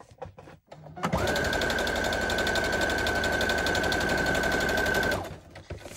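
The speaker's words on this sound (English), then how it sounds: "I'm just going to run another stitch down here" A sewing machine runs a steady four-second burst of rapid, even stitching through a junk journal cover, loud and close, starting and stopping abruptly.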